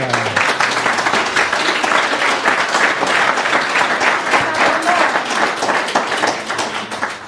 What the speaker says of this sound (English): Let's give Dawn a round of applause for her.